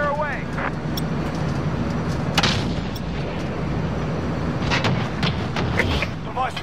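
Heavy 105mm cannon fire from a gunship in a video game, with deep booming blasts and rumbling impacts layered over constant engine drone while voices talk over the action.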